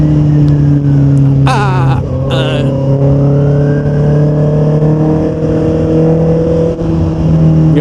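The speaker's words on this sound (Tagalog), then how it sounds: "kaya pala ang dami ng sasakyan dito sa SLEX" Heavy traffic on the SLEX highway in the late afternoon, heard from a Honda CB650R motorcycle: a steady, loud engine drone with passing vehicles and rushing road noise throughout.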